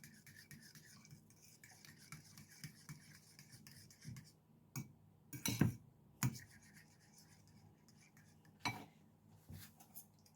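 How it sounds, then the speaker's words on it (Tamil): A spoon mixing beaten egg with chopped green chilli in a bowl, giving quiet scraping and a handful of sharp metallic clinks against the rim, close but faint with gaps between strokes. "இதையும் படிவாக கலந்து விடுவோம்"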